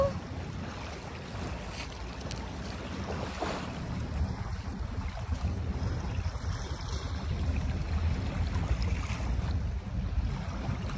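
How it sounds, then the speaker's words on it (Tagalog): Waves wash steadily against the shore at Dolomite Beach on Manila Bay, a continuous near roar of surf with no one speaking. "maririnig yung hampas ng alon po dito sa tabi"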